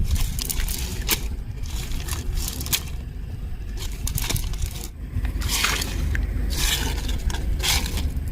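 A big shrimp caught in a fishing net on a Sundarbans river at night makes an irregular, close scraping and crackling rustle, with sharp scratchy bursts over a low rumbling background.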